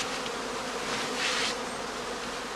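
Honeybee casts settled in straw skeps make a dense, continuous buzzing hum, close and steady, with many bees droning together and no other sound.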